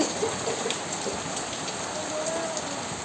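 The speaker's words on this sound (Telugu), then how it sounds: "చూసారా వాన వచ్చి ఎలా ఎలా చేసిందో అసలు మామూలుగా ఫుల్ వర్షం వచ్చింది" Heavy rain pours steadily on a house and its surroundings, a dense, even hiss of drops hitting surfaces throughout, with no other sounds.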